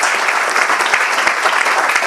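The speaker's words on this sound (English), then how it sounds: "a big round of applause to all the people" Steady, dense clapping from a lecture-hall audience at a public endowment award lecture, continuous and fairly loud for two seconds with no voices.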